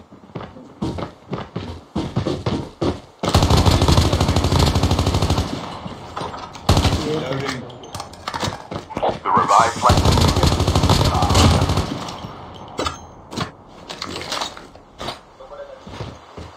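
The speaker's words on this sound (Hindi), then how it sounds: "नंबर वन के पास फायरिंग हो रही है" Bursts of automatic gunfire in COD Mobile, in rapid volleys that come and go, loud at times and sparser at others, with speech-like sound in places.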